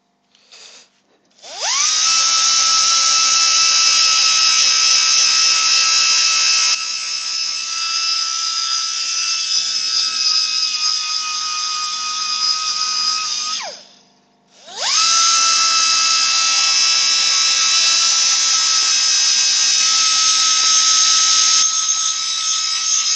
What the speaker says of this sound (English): I'm going to go mad with the sanding